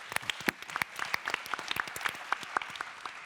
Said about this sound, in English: And your work also, Anne, and we can applaud you for that.